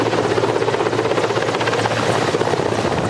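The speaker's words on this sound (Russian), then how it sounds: "Многоцелевые Ми-17." A Russian-made Mi-17 multipurpose helicopter flies during an airborne assault exercise, its rotor producing a loud, steady, continuous thrum close by with no voices.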